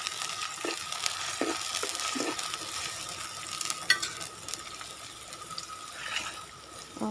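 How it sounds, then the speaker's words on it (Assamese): Ginger-garlic paste frying together with onions in a pan for a broiler chicken curry, a steady soft sizzle with light stirring scrapes throughout, fairly quiet and close, with no talking. "আদা নহৰু পেষ্টখিনি মই একেলগে পিঁয়াজৰ লগতে ভালদৰে ভাজি ল'ম।"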